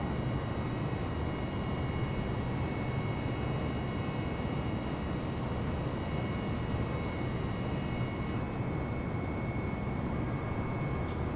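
A steady, unbroken engine and airflow drone from an airplane climbing after takeoff in Microsoft Flight Simulator, loud and constant with no breaks.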